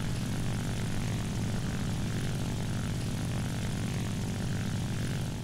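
A P-51 propeller fighter in a realistic-battle combat flight game drones continuously with a deep, throbbing engine note, steady and fairly loud throughout, with no voices.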